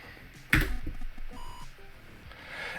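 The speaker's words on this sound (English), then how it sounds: "Now, it beeped at me" Atari 8-bit computer beeping after assembling a file: one short, faint electronic tone in a quiet room, preceded by a brief louder click or knock.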